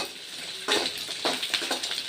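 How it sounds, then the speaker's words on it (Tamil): Garlic fries in a pan for a garlic chutney, a soft continuous sizzle with a few brief scraping stir strokes near the end, fairly close and moderately quiet. "பூண்டு சேர்த்தாச்சு. சேர்த்துட்டு நல்லா வதக்கணும்."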